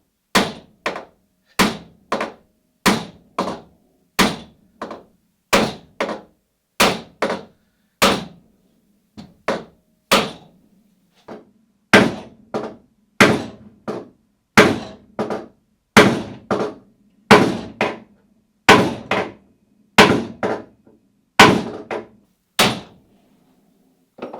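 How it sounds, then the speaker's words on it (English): Steady hammer blows strike a nail into wood while building a Catalina Wherry boat, dozens of sharp knocks in an even rhythm, close and loud with no talking. "You can switch to a heavier hammer and try and get it to sneak past the bendy bit."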